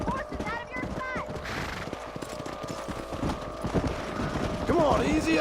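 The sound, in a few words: horses trotting, hooves clip-clopping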